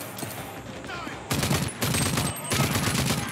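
Gunfire in the shooter game Rage 2, with bursts of rapid shots arriving in two or three loud clusters over a steady background of game noise and effects.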